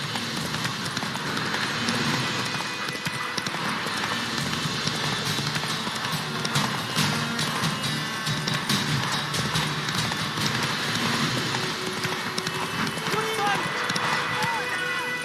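A horse gallops in a video game with a steady, dense clip-clop of hooves, heard under ongoing talk and game sounds.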